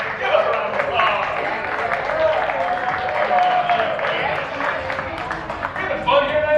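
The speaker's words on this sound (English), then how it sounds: "give us a round of applause" Scattered clapping and cheering from a comedy lounge crowd at a standup show, continuous and lively, mixed with crowd voices and whoops throughout.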